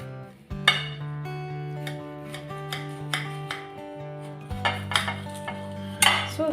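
Knife slicing a cucumber on a cutting board, with a series of irregular crisp taps and clicks, close and fairly light, over steady background music.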